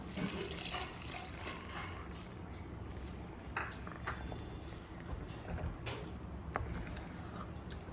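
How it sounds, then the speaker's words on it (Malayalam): Water from soaked Malabar tamarind is poured into a Kerala-style fish curry in a pot, a steady close splashing and trickling with a few light utensil clinks over the top. "നമ്മുടെ കുടംപുളി ഇട്ട് വെച്ചിട്ടില്ലേ അതിൻ്റെ വെള്ളം ഒഴിച്ചു കൊടുക്കാം"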